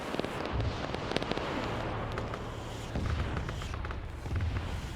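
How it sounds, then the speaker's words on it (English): Airstrike explosions slam a mortar position in Arma 3, a run of deep booming blasts and crackling impacts rolling continuously at mid distance, with brief voices faintly underneath. "Airstrike going on that mortar position"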